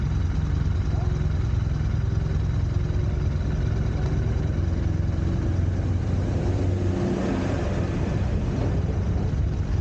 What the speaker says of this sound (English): Tractor coming.